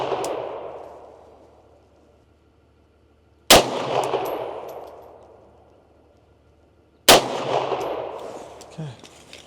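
Two sharp M9A1 pistol shots fired at an outdoor shooting range, spaced a few seconds apart, each a loud crack followed by a long ringing echo that slowly decays.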